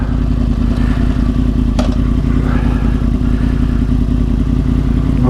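A 2010 Yamaha R1 sport bike being ridden, its engine a loud, steady close-up drone with wind rush and a brief clatter partway through.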